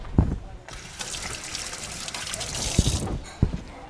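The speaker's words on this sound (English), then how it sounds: "Wash my hands." Tap water runs and splashes into a kitchen sink as hands are washed, a steady close hiss broken by a few bumps and knocks, with no talk.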